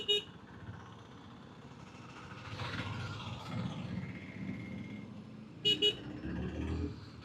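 Busy road traffic rumbles steadily with engines nearby, heard from a Bajaj Pulsar NS160 motorcycle, and car horns toot sharply at the start and again in two quick blasts near the end.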